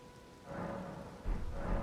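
In the video game Elden Ring, rain falls in the open world while low thunder rumbles swell twice, building from a quiet patter into a deeper, louder roll.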